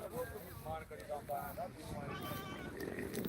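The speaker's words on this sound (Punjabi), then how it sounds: "ਇੱਧਰ ਘੈਂਟ ਘੈਂਟ ਖੜੀਆਂ ਨੇ ਬੱਕਰੀਆਂ" Goats bleat at a busy livestock market, several wavering calls close by rising over the crowd's chatter and someone talking, with general market bustle carrying on beneath.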